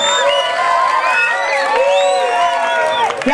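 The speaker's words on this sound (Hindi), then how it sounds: "जोरदार तालियां।" A crowd at a public gathering about neglected civic conditions in Malegaon's Razapura area bursts into loud, sustained cheering and whoops with scattered clapping, voices shouting over one another close by.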